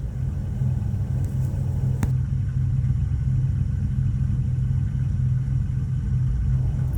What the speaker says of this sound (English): Come on, old Dodge, stay running.